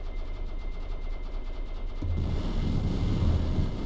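Video game gunfire cracks in a rapid burst over a low rumbling background, growing denser and louder in the second half as shots pile up.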